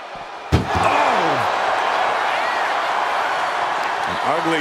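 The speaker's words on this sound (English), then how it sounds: "Slams the casket lid on their opponent's back." Casket lid slammed onto a wrestler's back during an Undertaker versus The Fiend casket match in WWE 2K25: one sharp heavy slam, followed by a sustained roaring crowd and commentary.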